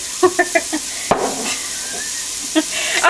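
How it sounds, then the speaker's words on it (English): Leeks sautéing in a pan for potato soup give a soft, steady sizzle broken by a few light clicks and scrapes of stirring, close by and with no talking. "I'm just going to saute this a little bit until it starts to get nice and softened"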